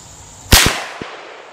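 A Ruger Precision rifle fires one sharp, loud shot during an ammunition test at 100 yards with a bipod setup, followed by a short echoing tail and a fainter crack.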